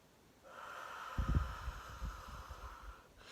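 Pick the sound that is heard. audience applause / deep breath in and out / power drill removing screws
deep breath in and out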